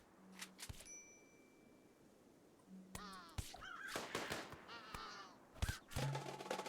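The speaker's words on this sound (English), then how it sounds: "God, it's literally a murder of crows." Several crows caw in a video game, harsh calls coming in overlapping bursts with ringing clangs and dings mixed in, fairly close and loud.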